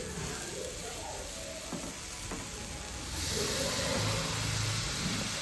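Coconut filling with date-palm jaggery sizzles in a pan while being stirred, a constant frying hiss that grows slightly louder midway, close, with faint clinks and no talk.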